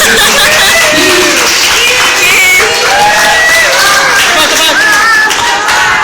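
Wedding guests at a ceremony in Manila break into sustained, loud applause and cheering, a dense crowd wash of clapping with voices and chatter layered over it throughout.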